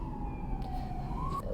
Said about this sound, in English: something's about to go down with that siren in the background